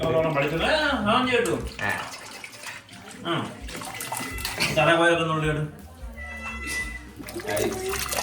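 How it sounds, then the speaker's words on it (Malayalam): Water runs and splashes steadily while tapioca is washed by hand, heard close by beneath almost continuous talking. "കപ്പ കഴുകിക്കൊണ്ടിരിക്കുകയാണ്."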